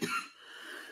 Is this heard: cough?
yes